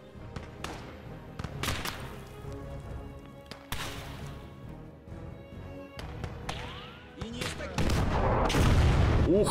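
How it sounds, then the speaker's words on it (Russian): Artillery in the World War II game Call to Arms: Gates of Hell fires at the siege of Sevastopol, with several heavy booming shots and sharp cracks amid battle noise, loud and dense, growing heavier toward the end. "Он как будто прямой наводкой выстрелил, прикинь."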